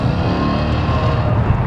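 A Maserati engine drones loud and close under hard acceleration, a dense, steady low roar with no break, with no voices.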